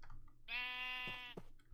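A single Minecraft sheep bleats once, a clear, steady, nasal cry lasting under a second, heard close over quiet game background with faint clicks before and after.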